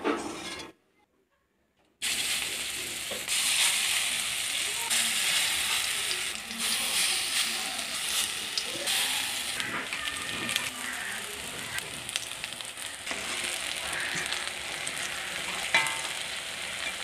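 Fritters frying in hot oil in a home kitchen, a steady crackling sizzle with occasional scraping and stirring clatter from a utensil, close and continuous after a brief silent gap.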